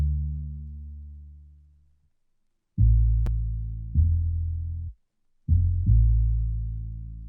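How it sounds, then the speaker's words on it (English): An upright bass sample in FL Studio plays a few deep, sustained low notes in a slow pattern with short gaps of silence between phrases, warm and prominent with nothing else heard. "Next I use this upright bass that just sounds like this."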